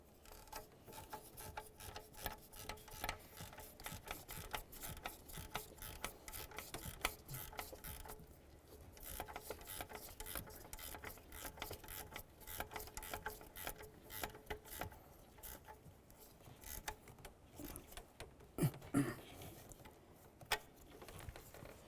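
A ratchet snugs a nut onto a stud holding an exhaust manifold bracket on a 2005-2010 Chevrolet Cobalt, giving rapid, faint clicking in repeated bursts with short pauses, close by and without speech.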